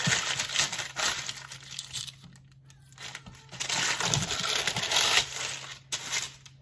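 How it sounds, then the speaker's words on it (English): Baking paper peeled away from a set slab of homemade rocky road, a crisp crinkling and crackling that runs in two bursts with a brief quieter gap between them, close and alone with no talking. "Peel off the paper."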